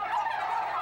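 Several California-raised turkeys gobble close by in one loud, continuous burst of rolling calls, with no talking.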